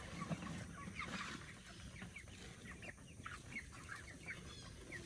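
Chickens cluck and chatter steadily at a feeding trough, a busy flock of growing birds heard close by with overlapping calls and no speech.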